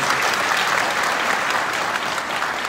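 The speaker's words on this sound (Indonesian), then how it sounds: "Mari kita berikan tepuk tangan sekali lagi ke Pak Anies." An audience at an event in Indonesia applauds presidential candidate Anies, a thick, continuous roar of clapping from many hands, loud and even throughout with no speech on top.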